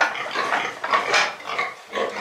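Piglets grunt and squeal in a pen on a small pig farm, several short close bursts coming in quick irregular succession with no talk.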